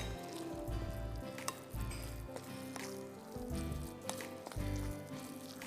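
Corn and daal fritters, or pakoras, frying in hot oil make a steady sizzle and crackle, with repeated bursts and spatters in an uneven rhythm that stays close and moderately loud, with no voices.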